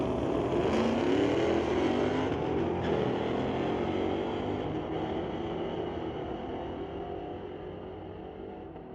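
A 2018 Dodge Hellcat and a Mustang drag race at a street-legal night at Mission Raceway Park, engines roaring off the line and fading gradually as they pull away into the distance.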